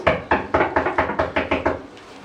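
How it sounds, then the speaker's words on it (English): Knocking on windows during a children's stage performance: about nine fairly loud, evenly spaced knocks in a steady rhythm, with no talk. "Every night the ghost knocked on the windows."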